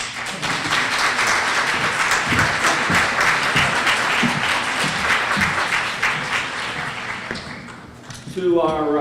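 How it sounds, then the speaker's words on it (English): Audience applause after a policy leader panel at an arts and education symposium, sustained dense clapping from a crowd filling the room, fading slightly toward the end as a voice begins speaking. "how about a round of applause for this?"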